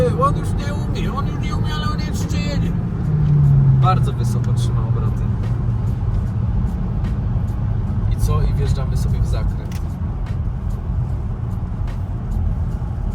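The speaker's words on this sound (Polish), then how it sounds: "Przyspiesza fajnie, ale trzyma te obroty do samego końca." Audi Q3 1.5 TSI S-Line from 2021 accelerating while overtaking a truck, its engine rising steadily as the revs climb and held high, a droning hum under continuous talking from inside the cabin.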